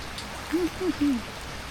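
Fine village drizzle patters as a constant soft hiss, broken by three short, faint tonal chirps in the middle.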